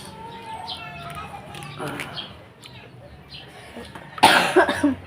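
A person coughs loudly and harshly near the end, a short burst of several hacking coughs close by, following quieter talk and background bird chirps.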